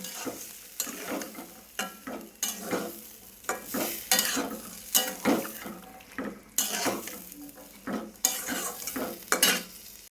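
Boiled black chickpeas being stir-fried in masala in a pan, with repeated scraping and stirring strokes of a utensil against metal over a soft sizzle, close and irregular in rhythm.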